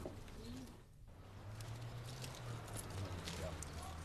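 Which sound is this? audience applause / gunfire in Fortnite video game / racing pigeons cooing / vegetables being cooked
racing pigeons cooing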